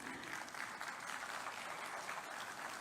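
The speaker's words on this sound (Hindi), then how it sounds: "SCERT के अभिनव प्रयासों के लिए आप सबकी तालियां।" Steady applause from an audience at a public education event addressed by Chief Minister Yogi Adityanath, dense and continuous clapping at moderate level throughout, with no talk over it.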